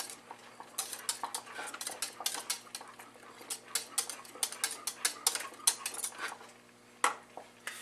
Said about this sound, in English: Make sure you keep stirring it at this point.